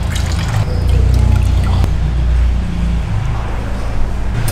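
Coffee poured from a vessel into a cup during a roastery tasting, a steady liquid trickle and splash lasting a few seconds, close and moderately loud over low room rumble.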